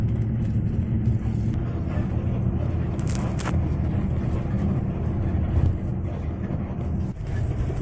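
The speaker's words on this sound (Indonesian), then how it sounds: "Bus yang mau naikin ini sasis Hino dengan bodi Legacy, jadinya enak banget ya." Steady low engine and road rumble inside a moving Hino-chassis bus with a Legacy body, a Cahaya Bakti Utama coach on a morning trip to Jatinangor, continuous and close throughout.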